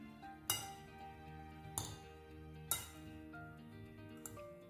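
Foxtail millet salad being mixed in a bowl, a few sharp clinks of a utensil against the dish spaced seconds apart, with soft background music between them.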